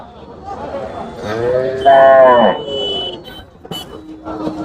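A bull at a busy livestock market in Manapparai lets out one loud, rising bellow over crowd noise and chatter, followed by shorter, fainter calls.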